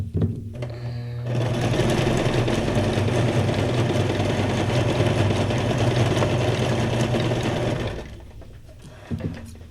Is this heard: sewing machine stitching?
yes